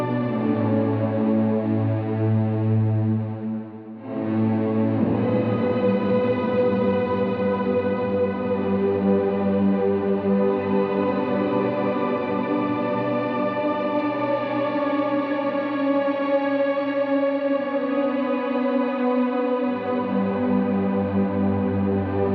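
Electric guitar run fully wet through an ambient reverb pedal, Cloudburst or Mercury 7, swelling into sustained, string-like orchestral pads; after a brief dip the washy chord drone holds steady and loud, with no talking.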